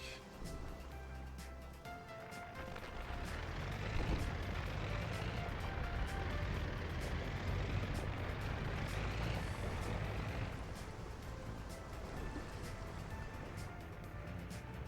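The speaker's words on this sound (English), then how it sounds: "We're just waiting on our dump trucks to come back." Dump trucks in the city-builder video game Workers and Resources, with a rumbling engine drone rising and holding steady, hissing air-brake bursts and faint reversing beeps, all heard alone without talk.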